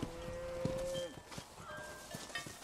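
Cattle moo in the video game Red Dead Redemption, with one long, clear low moo followed by quieter farmyard ambience. The sound is faint overall.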